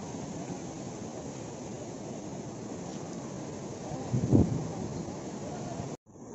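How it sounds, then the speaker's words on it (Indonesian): Strong wind at the Kilometre Zero monument in Sabang, Aceh, buffeting the microphone as a steady broadband roar, with a brief louder gust near the end before it cuts off. "Angin lagi kencang kali ya."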